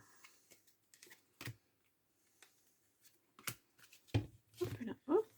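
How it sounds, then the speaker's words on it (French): A hard-to-shuffle card deck as three cards are drawn from it: sparse, soft clicks and card slaps that grow denser and louder toward the end, with quiet murmuring underneath. "je vais prendre 3 cartes."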